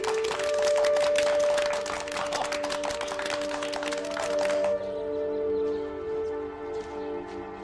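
A group in a meeting room claps to approve a resolution: dense, even applause for about four and a half seconds, then it stops abruptly as sustained music carries on.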